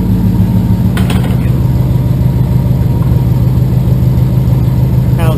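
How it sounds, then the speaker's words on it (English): A C4 Corvette ZR1 with its LT5 engine and OBX headers runs loud and close, a steady deep idle rumble holding throughout with only a slight rise in revs. "give you a little sound clip. Just let you hear a rev."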